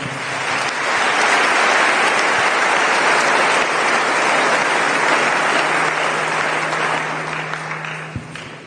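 A church congregation applauding together, a dense, loud burst of clapping that swells quickly, holds steady for several seconds, then tapers off.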